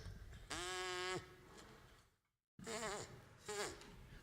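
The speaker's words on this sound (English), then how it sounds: "The brass family, the buzzing sound, the vibration is caused by this." A person presses the lips together and buzzes them, as a brass player does, making two or three short, nasal, insect-like drones close by, with a brief silence between them.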